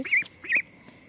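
Domestic ducks kept at a house, giving two short nasal quacking calls close by, one after another, with quiet background between them.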